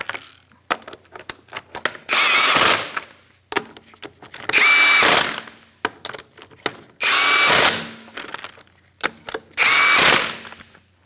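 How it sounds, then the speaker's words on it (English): A power tool, likely an impact driver, snugs up lug nuts on a 2004-2009 Mazda 3 wheel in loud repeated bursts, with short clicks and handling noises between runs. "we're going to snug up our lug nuts"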